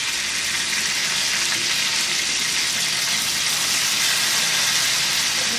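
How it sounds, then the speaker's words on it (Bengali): Fish pieces, already flipped, fry in hot oil on high heat with a dense, continuous crackling sizzle, close and even throughout, with no voices. "একদম এরকম বাদামি করে ওই পাশটা ভেজে নিবে।"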